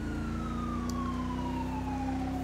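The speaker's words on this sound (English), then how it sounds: "I always link my siren" Police siren on a 2019 Chevy Silverado sheriff's patrol vehicle in GTA 5 LSPDFR, a steady wailing tone sliding slowly downward over a constant engine drone, heard alone without talk.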